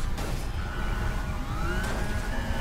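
Police car siren in the racing game Need for Speed Heat, wailing tones sweeping up and down over a rumbling engine, loud and continuous with no talk.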